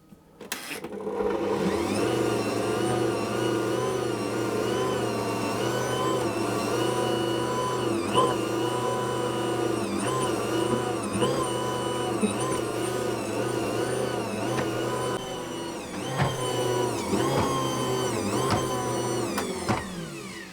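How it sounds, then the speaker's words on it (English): An Ankarsrum stand mixer kneads teacake dough with a steady, loud motor hum that holds level throughout, its pitch wavering slightly, with brief knocks near the end. "I'm going to knead that until it forms a smooth and stretchy dough"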